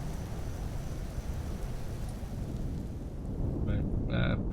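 Steady rain and low thunder rumbling in Empyrion Galactic Survival, a continuous wash of weather noise with a faint voice near the end.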